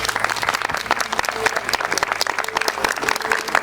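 An audience at a presentation about Osoj fortress claps together in a brief, dense burst of applause, loud and close, with the sound staying even throughout.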